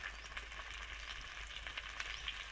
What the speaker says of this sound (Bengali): এবারে এটা ভালোভাবে একটু কষিয়ে নেব